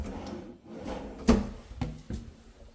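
Wooden cabinet drawer thuds and slides nearby, with a sharp knock in the middle followed by a couple of softer bumps.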